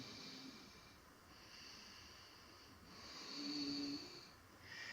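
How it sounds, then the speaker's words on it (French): Ujjayi breathing in a hatha yoga class, a slow, soft breath with a hissing friction sound at the back of the throat, rising and falling over a few breaths, close and quiet, no talk. "Essayez de sentir que ça fait un bruit qui frotte au fond de la gorge"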